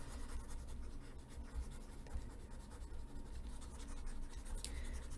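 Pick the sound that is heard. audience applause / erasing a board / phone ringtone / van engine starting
erasing a board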